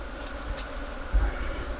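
Honey bees drone around a honey-production hive at a bee farm in Habinsaran, Toba, a steady, close buzzing hum that fills the whole stretch with no talk.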